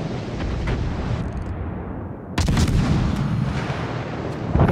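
Warship guns firing in the naval video game World of Warships: Legends, a heavy booming salvo that cuts in sharply mid-clip over a rumbling battle backdrop, with a second, smaller blast near the end.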